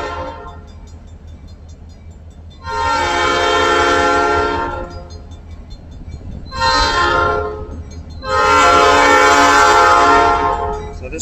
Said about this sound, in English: we're going to have a big freight train coming right behind us.